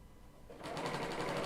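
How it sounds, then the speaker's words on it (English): Bernina L890 serger starts up and runs rapidly over fabric binding, a close, fast mechanical whirring stitch that begins after a quiet moment and continues steadily. "now I'm just going to stitch right over"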